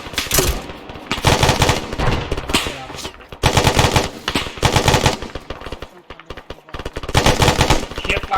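Heavy gunfire rattles through a military field training exercise, with dense machine-gun bursts and repeated shots in loud sustained volleys, broken by a brief lull before firing resumes.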